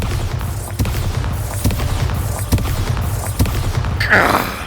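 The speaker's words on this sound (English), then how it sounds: "I like the lightning, but the explosion is a bit smaller than I would have liked." In the Hogwarts Legacy video game, an exploding charm spell bursts against pumpkins, making a series of sharp, evenly spaced blasts with a crackling, brighter flare near the end.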